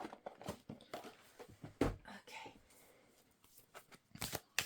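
Quiet, brisk riffling and tapping of playing cards being shuffled, a few soft bursts in irregular rhythm, close by and faint.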